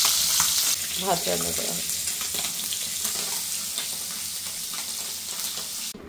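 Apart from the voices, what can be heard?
frying native koi fish (climbing perch) in a pan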